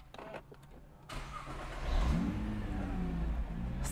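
A Nissan GT-R Nismo starts up with a rough, audible crank, then the engine catches and revs up close, loud and steady, with no talk.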